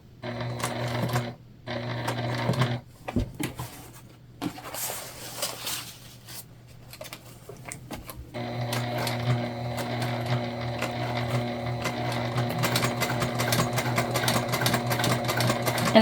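A sewing machine stitching a fabric bag over its zipper, running in loud steady bursts with a brief pause and a few clunks before a long continuous whirring run.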